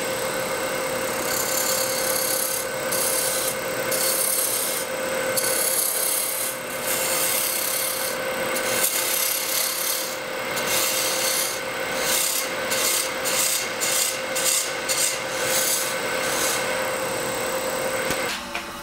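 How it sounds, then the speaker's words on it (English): A Robert Sorby mini gouge cuts a wooden bottle stopper on a lathe, giving a steady scraping rasp over the machine's constant hum, with repeated short bursts of cutting toward the end and no talking. "I'm going to use a little gouge. This is a Robert Sorby mini gouge."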